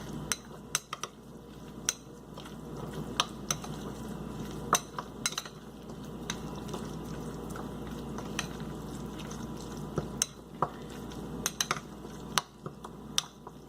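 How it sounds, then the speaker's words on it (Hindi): A spoon stirs a sandwich filling in a bowl with black pepper and chaat masala, giving faint, steady scraping and scattered small clinks against the bowl, with no talking. "और चाट मसाला। अच्छी तरह से मिक्स कर दें इसको।"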